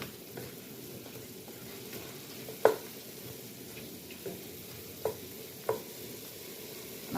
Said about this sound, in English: carrots and the celery almost cooked, I'm gonna add in the tomato